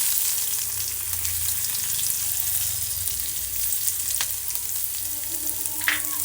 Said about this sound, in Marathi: लसूण थोडंसं फ्राय झालेलं आहे